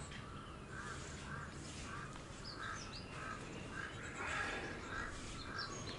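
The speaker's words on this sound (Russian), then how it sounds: "Вороны каркают." Crows cawing from treetops over a valley at sunrise in McLeod Ganj, India, a few repeated calls spread through the clip against a steady outdoor background hiss, moderately distant.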